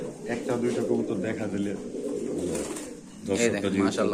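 Pigeons coo at a pigeon market where round gola pigeons are being sold. Soft, rhythmic cooing sounds close by while someone talks over it almost the whole time.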